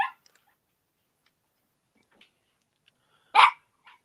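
A small dog named Gizmo gives a couple of short, sharp barks in a quiet room, one at the start and a louder one near the end, with faint ticks in between.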